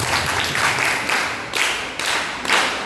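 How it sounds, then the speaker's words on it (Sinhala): Audience applause at a school announcers' workshop, steady and moderately loud clapping from a crowd that carries on throughout with slight swells. "අපි අත්පොලසරක් ලබා දෙනවා"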